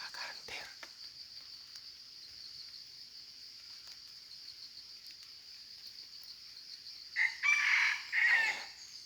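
A rooster crows once, loud and fairly close, near the end over a steady outdoor insect drone and otherwise quiet surroundings.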